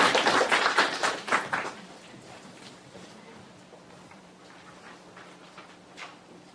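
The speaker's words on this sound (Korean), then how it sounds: "그래서 큰 박수로 환영해 주시고요" Applause from a seminar audience welcoming a philosophy professor to the lectern, a burst of fairly close clapping for about two seconds that quickly thins to scattered claps and room hush.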